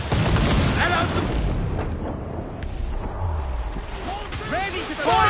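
Ship cannon fire in Assassin's Creed Black Flag during a naval battle: heavy booming blasts and rumbling over a continuous backdrop of sea and crew shouting, loud and dense throughout.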